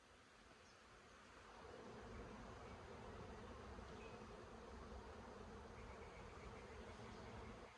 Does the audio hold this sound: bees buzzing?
yes